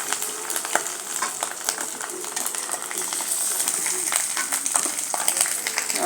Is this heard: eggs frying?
yes